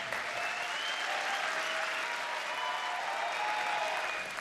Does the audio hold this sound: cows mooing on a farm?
no